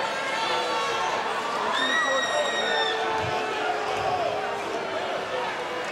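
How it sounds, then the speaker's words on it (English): A crowd at a Georgia MMA fight reacts with loud, sustained disapproval, a dense wash of shouting and jeering voices, with scattered whistles rising above the steady arena noise. "Crowd's definitely not liking that"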